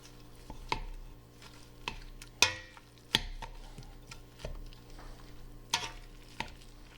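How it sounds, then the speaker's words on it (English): Potatoes being mashed by hand for a shepherd's pie, a string of soft, irregular squishing thumps and scrapes close by in a quiet kitchen. "And now we're going to mash."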